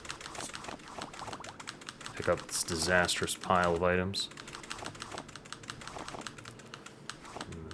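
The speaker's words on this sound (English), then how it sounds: "Mashing my keyboard here" A computer keyboard is mashed rapidly with dense clicking keystrokes while playing The Elder Scrolls: Morrowind, the clatter running steadily under a man's speech.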